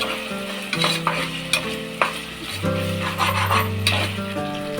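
Ginger garlic paste sizzles in a pan while being stirred during chicken biryani cooking, with a continuous frying hiss broken by repeated scraping strokes of a spoon, close up and with no voices.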